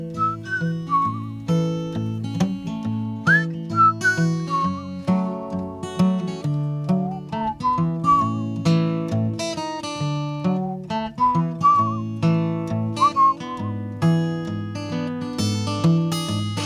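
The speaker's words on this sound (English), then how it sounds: "And it has a little whistling section," Melodic whistling carries the tune over a steady instrumental backing in the whistling section of a song, phrases rising and falling at a relaxed pace, loud and close with no voices.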